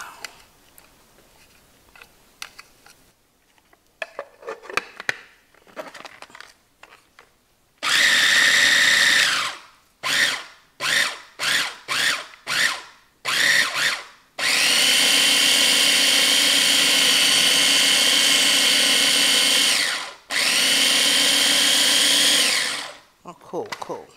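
A food processor on its chop setting whirs through parsley and dill in a loud run, then a string of short pulses and two longer sustained runs, after quiet rustling at the start.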